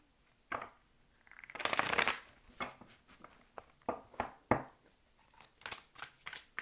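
Tarot cards being shuffled close up, a soft riffle building into a brief papery whir, followed by a string of separate light card taps and slaps, quiet and with no talking.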